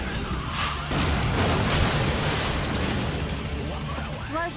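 A video game explosion in Lollipop Chainsaw bursts out as a loud, broad rumbling blast that lingers for a few seconds, with crackling debris trailing off at the end.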